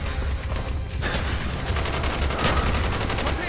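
Rapid gunfire fills the Call of Duty: Black Ops campaign on Xbox 360, a dense, continuous stream of shots that grows sharper and brighter after the first second, loud and close with no pause.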